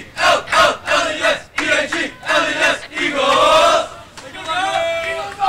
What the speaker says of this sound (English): hear the EAGLES cheer from the Singapore boys team down below us.